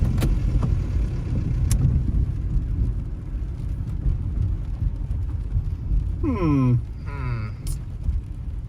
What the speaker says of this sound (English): That made the exhaust louder.